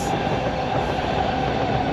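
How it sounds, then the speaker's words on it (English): A metro train pulls into a station and slows, its steady, loud rumble of wheels and motor filling the whole stretch with no voices. "So the train will come in like this, and it has approached the station."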